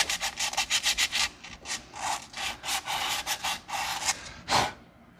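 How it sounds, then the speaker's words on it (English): A hand file rasps back and forth across the metal hub of a 2000 Chevy dually truck, cleaning off rust and debris: close, rhythmic scraping strokes, quick at first and then slower, with no talking. "file away any material that's in here"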